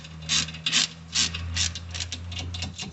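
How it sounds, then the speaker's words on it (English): A ratchet wrench tightens a brake caliper bolt during brake maintenance, giving a run of close, rhythmic clicking bursts in short strokes over a steady low hum. "We'll tighten this with the ratchet until it's hand tight."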